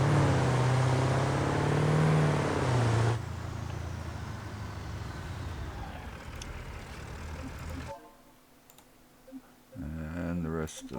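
A big truck in BeamNG hauling boxes gives a loud engine drone that drops away after a few seconds to a lower rumble, then goes quiet before revving again, with someone talking throughout.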